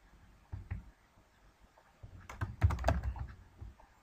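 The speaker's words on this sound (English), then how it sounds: "We'll type in home and we'll change the color to a whitish color." Keys clatter on a computer keyboard while text is entered in Flash 6, with a few soft taps, a pause, then a denser burst of close typing alone.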